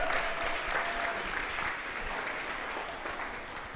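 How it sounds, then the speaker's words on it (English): An audience at the Kaplan Pitch Tank 2022 event applauds, steady sustained clapping from a crowd filling the whole stretch at moderate loudness, without speech over it. "Let's have a round of applause for the audience."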